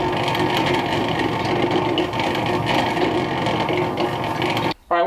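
A tumbler churns a waterfowl taxidermy mount in corncob grit with a steady, dense mechanical rumble and rattle. It runs continuously at close range, with no talk, then cuts off abruptly just before the end.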